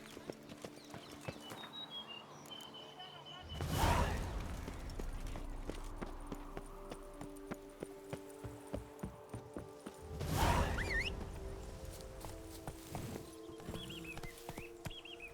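Geralt's horse Roach gallops in The Witcher 3: Blood and Wine, with steady close hoofbeats rolling throughout and two loud whooshing swells, no talk.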